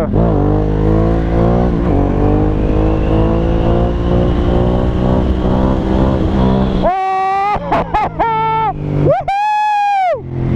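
A Ducati Hypermotard 1100 Evo motorcycle pulls hard under a strong, steady engine note, then rips through quick second and third gear shifts, each one a brief drop before the revs climb again. The sound is loud and close, with no talk over it.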